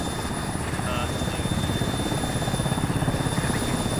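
In a video game military operation, a medevac helicopter's rotor thumps in a steady, loud drone that fills the whole stretch without a break.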